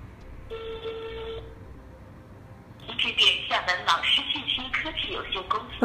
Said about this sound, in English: Now use a mobile phone to dial the trunk's number.